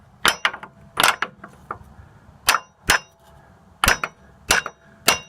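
Hammer taps on a ball joint of a second-generation Dodge Ram 1500, about eight sharp metallic clangs in uneven pairs and singles, close and clear with no talking.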